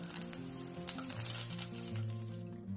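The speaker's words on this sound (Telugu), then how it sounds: "ఈ దినుసులన్నిటిని సన్నటి సెగ మీద నూనెలో వేయించుకోవాలి." Spices, curry leaves, slit green chillies and dried red chillies sizzle steadily in oil over a low flame, a close, continuous crackle with a faint stir partway through.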